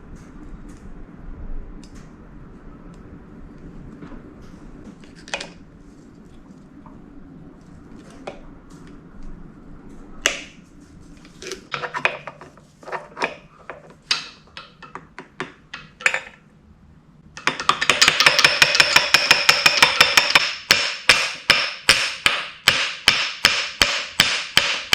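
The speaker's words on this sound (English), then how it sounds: "We'll rivet this link up." Rivet tool work on a motorcycle cam chain link during a Yamaha XS650 top-end engine rebuild: scattered sharp metallic taps and clicks building into a rapid, close burst of rhythmic clacking near the end.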